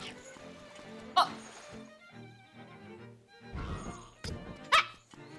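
Dog barking in a Legend of Zelda video game, with a couple of sharp yaps standing out over quieter game sounds and murmured background noise.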